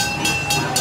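Steady rumbling rail noise with a repeating hiss roughly every quarter second from a Lego Duplo toy train running along its track, close and fairly loud.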